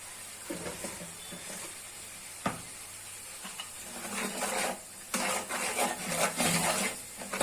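Spice paste of chili powder and salt is stirred and sautéed in a pan, a steady soft sizzle running under scattered scraping and clinks of a spoon against the pan, growing busier toward the end.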